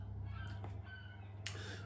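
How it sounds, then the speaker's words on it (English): Seagulls call outside a seaside apartment in St Ives, a few harsh squawks rising over a steady low indoor hum, one sharp cry near the end, distant and faint. "And we've got seagulls, so apologies for the background noise."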